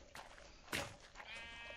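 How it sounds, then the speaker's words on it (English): A sheep in the Minecraft video game gives a brief bleat, joined by a few other short, faint game sounds at low volume. "Okay, this is our sheep pen."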